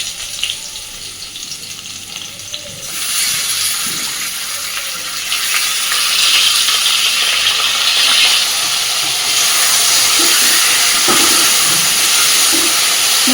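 A ground paste of onion, tomato, garlic, ginger and a little cumin hits a hot pan for rui fish kalia, bursting into a loud, steady sizzle that swells after a quieter start and continues throughout with no talking.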